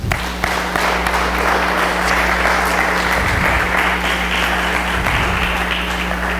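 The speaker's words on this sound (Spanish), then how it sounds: "Dele un aplauso al Señor, hermano" A church congregation applauds during a Spanish-language sermon on divorce: loud, sustained clapping from many people over a steady low electrical hum, continuing evenly without speech.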